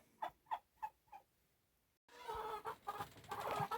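Meat chickens on a homestead farm give four evenly spaced clucks, then a denser, noisier stretch of flock sound and movement follows close by.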